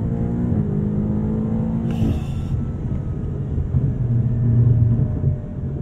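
A Carbahn-tuned 882 HP BMW M8 Competition Coupe accelerating hard in M sport mode, a deep steady engine rumble that swells and rises in pitch across the run, heard from inside the car with no talking.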